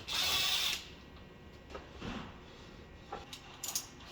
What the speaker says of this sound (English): Then I'm going to loosen the bolt on the other side.